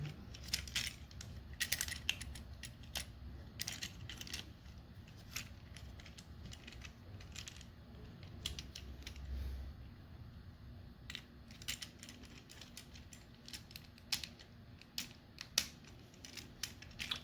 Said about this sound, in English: you just click these two pieces together